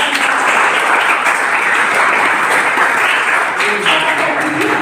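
Classroom applause during an Islamic religious education lesson, a dense, continuous burst of clapping from students held at an even level, with some voices mixed in.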